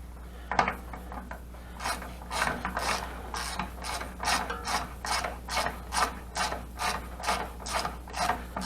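A hand ratchet turning a headlight adjuster bolt on a 1991 GMC Suburban, giving rapid, even clicking in steady bursts, close and clear, with no voices.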